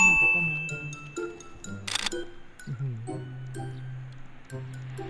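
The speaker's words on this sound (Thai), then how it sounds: "ผู้ชายยิงแชะเดียวนะผู้หญิงนี่ยิงช็อตช็อตช็อตช็อตช็อตเลยนะ" A camera shutter fires once with a sharp mechanical click, taken during a vlog outing at Muak Lek reservoir. The click sits under ongoing talk, with speech continuing before and after it.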